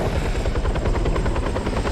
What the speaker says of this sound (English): I don't think you're going to be able to ride in the helicopter there